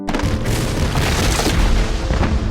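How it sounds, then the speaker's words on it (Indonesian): A ship explodes in the animated film Kung Fu Panda 2, a loud continuous booming roar with dense low rumble and crackling debris, sustained for the whole moment without any talk. "Kapal itu meledak hebat."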